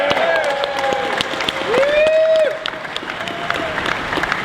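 Audience at a pro-gun rally applauding and cheering to welcome a speaker, a dense crowd clapping throughout with whoops and shouted voices rising above it.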